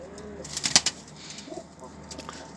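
Homing pigeons on a rooftop cooing softly, with a brief cluster of wing flaps and rustling near the middle, close and fairly quiet.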